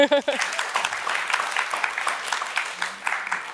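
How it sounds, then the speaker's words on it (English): After a brief voice at the start, a conference audience breaks into sustained, moderately loud applause with dense, crackling claps. "So please give him a big round of applause."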